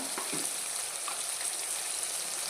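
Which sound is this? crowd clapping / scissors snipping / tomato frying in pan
tomato frying in pan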